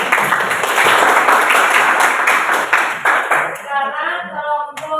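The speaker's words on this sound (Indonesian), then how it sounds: "Kita beri aplaus" Applause from a class of students, a dense burst of many hands clapping close by that thins out and fades toward the end.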